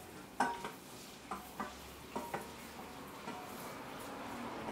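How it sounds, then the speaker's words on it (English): Pork browns in melted butter in a pan with a soft, steady sizzle, broken by several light stirring knocks and scrapes from a utensil. "And then we're gonna put the pork real quick"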